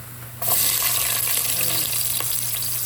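Onion and ginger sauté in a pan for chayote gisado, with a close, steady sizzle that starts abruptly and then runs on evenly.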